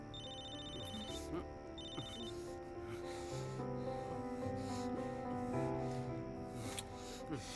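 Telephone ringing indoors in a dramatic scene, a repeated electronic ring tone sounding over music, moderately loud throughout.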